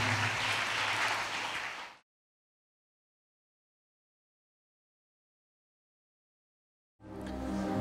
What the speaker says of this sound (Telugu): చప్పట్లు కొడుతు దేవుని స్తుతిద్దాం